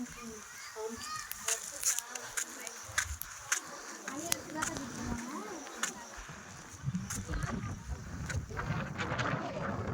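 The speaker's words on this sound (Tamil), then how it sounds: "நல்லா காற்று கிளிச்சின்னு வருது." Gusty wind buffets the microphone in a steady roar with rushing bursts near the sea at Kanyakumari, and faint voices murmur in the background.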